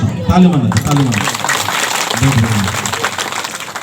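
A crowd claps steadily throughout while someone speaks loudly over the applause.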